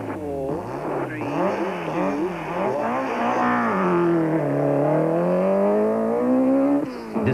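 A 1992 rally car launches from the start line of the 27-kilometre Mountain Trail stage and accelerates hard, its engine revving loud and close through rising and falling gear changes with no talk.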